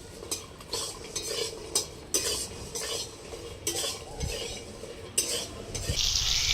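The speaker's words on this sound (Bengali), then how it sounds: "ওই তেলের মধ্যেই আলুগুলো দিয়ে দিলাম, অল্প কটা সিম দিয়ে দেব।" Potatoes and a few flat beans frying in oil in a pan: a constant sizzle broken by repeated scraping and clinking stirs of a metal utensil, close and fairly loud, with no voices.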